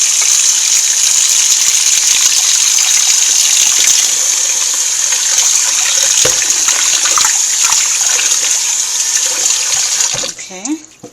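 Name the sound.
rinsing oxtail with running water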